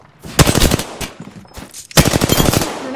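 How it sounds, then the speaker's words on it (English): Automatic weapons in Apex Legends fire two loud, close bursts of rapid shots, the first sharp and stuttering, then a short pause and a second longer burst of similar fire. "Firing"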